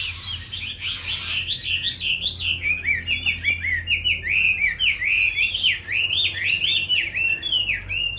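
A caged Chinese hwamei songbird sings a lively, continuous run of loud, rising and falling whistled phrases and chirps, close and clear, over a faint low hum.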